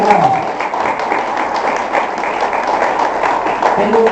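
A church congregation breaks into applause during a sermon, a dense, steady wash of clapping that carries on for several seconds with voices mingling underneath.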